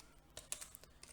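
Short burst of typing on a computer keyboard while working in a spreadsheet: a few quiet, close key clicks in an irregular cluster, with no speech.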